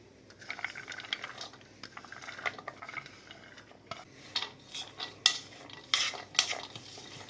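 Vegetables being stirred into masala in a bowl: a steady wet scraping with sharp clinks of a spoon against the bowl, close and moderately loud, growing more percussive toward the end.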